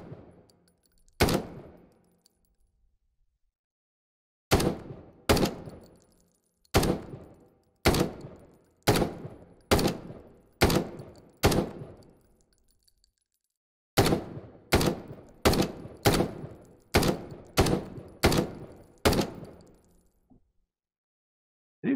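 Sharp gunshots from a rifle in a VR first-person shooter game, fired in clusters of rapid shots with gaps between groups, crisp and close over near silence.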